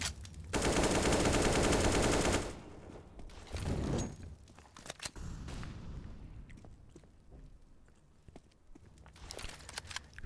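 Automatic rifle fire in a Counter-Strike match on Dust 2 near the B tunnels: a loud, dense two-second burst, then scattered shots, footsteps and smaller clicks and thuds through the rest of the round.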